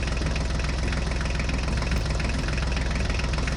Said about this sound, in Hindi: हम अपने जॉन डियर और HMT ट्रैक्टर को लेकर चलते हैं